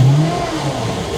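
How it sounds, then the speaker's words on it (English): A Mercruiser 383 MPI boat engine revs in neutral, a loud, steady mid-pitched roar that starts strongest and then holds a sustained drone for the whole short stretch, with no talking. "Now I'm just gonna rev the engine a little bit to see what happens on the actual pressure gauge."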